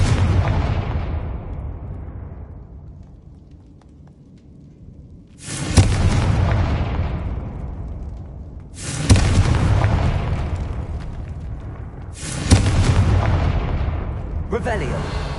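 Confringo fire spells explode one after another in Hogwarts Legacy: four or five heavy booms spaced a few seconds apart, each with a loud attack and a long rumbling decay.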